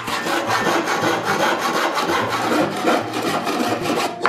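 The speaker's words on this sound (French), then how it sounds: "Et maintenant la scie, et hop, à la scie" A hand saw cuts through wood in close, loud, rhythmic back-and-forth strokes that rasp steadily with no pauses or talk.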